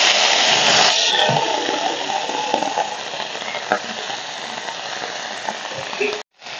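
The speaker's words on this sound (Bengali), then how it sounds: "এই মাছ ভাজার তেলেই আমি ভেজে নেব ব্রকলি আর আলুগুলো।" Broccoli and potatoes frying in oil left over from frying fish, a loud close sizzle with stirring scrapes that eases after the first second and continues steadily before a brief cutoff near the end.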